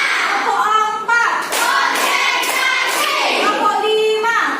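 Schoolchildren in a classroom clap together in rhythm, a loud group of hand claps close by, mixed with children's voices and chatter throughout.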